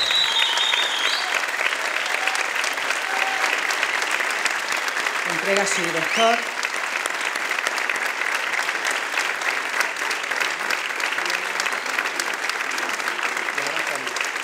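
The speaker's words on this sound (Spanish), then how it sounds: "Démosle un fuerte aplauso." Dense, sustained applause from a concert audience at a municipal band concert, steady and loud throughout, with a brief spoken phrase heard over the clapping partway through.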